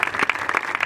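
Applause from a crowd at a school opening ceremony, dense overlapping claps at steady loudness, brief and fairly close.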